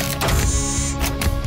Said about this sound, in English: its 3D printer